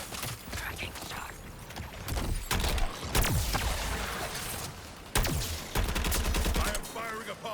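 Rapid bursts of video game gunfire and heavy impacts crackle through a chaotic battle, with sharp cracks at intervals and mechanical clatter layered over a busy background.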